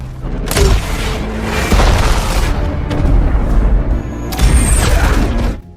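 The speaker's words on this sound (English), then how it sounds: "From afar, terrorists fire RPGs at them." RPG launches and heavy explosions in the war film Land of Bad: loud, booming blasts with roaring rumble and debris, one after another, dense and close.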